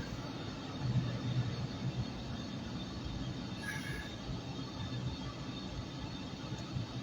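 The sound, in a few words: train passing right next to the speaker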